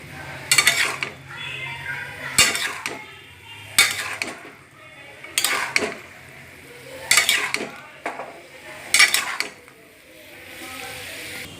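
Bottle gourd with salt and turmeric is stirred in a cooking pot, releasing its own water with none added: about six scraping, clattering spoon strokes at steady intervals, close and moderately loud, with quiet pauses between.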